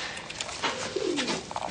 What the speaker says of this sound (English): Homing pigeons.